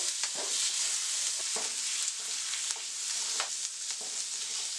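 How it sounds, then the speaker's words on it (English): Frozen carrots, peas and beans sauteing in hot oil for beef fried rice, a steady close sizzle with a few soft scraping stirs, no voices. "We're adding some carrots, peas, and beans. And these are frozen. And we're going to saute this up."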